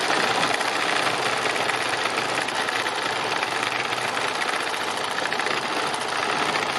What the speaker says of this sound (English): So I'll finish off sewing this.